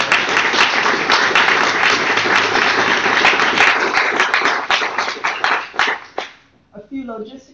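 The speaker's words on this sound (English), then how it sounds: "So I would like to give them all a round of applause" An audience in a room gives a dense, sustained round of applause that thins into scattered claps and dies away, followed by a voice speaking.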